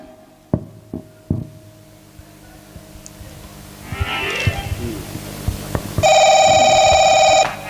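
Electronic telephone ringtone trilling steadily for about a second and a half near the end, preceded by a few sharp knocks and rustling handling noises at a Chhattisgarhi nacha folk theatre performance.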